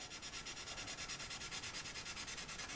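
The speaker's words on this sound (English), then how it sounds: "Using the side of our pencil, it makes it much faster to shade in." The side of a pencil rubs across paper while shading a drawing of a puppy's fur, a close, steady, rhythmic scratching of quick back-and-forth strokes with no voices.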